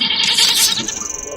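Sheep bleating in a modded Minecraft survival game, a loud bleat from a nearby animal lasting over a second with no voices over it.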